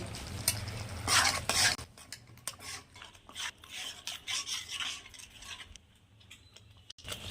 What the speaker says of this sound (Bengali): দই দিয়ে দেব আরো কিছুক্ষণ কষিয়ে নেব